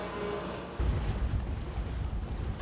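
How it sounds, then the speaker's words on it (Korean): Hairtail fishing boats head out of Seongsanpo harbor on Jeju. A low engine rumble rises abruptly after a quiet moment and carries on with wind and water noise. "하나둘씩 성산포항을 빠져나가는 배들."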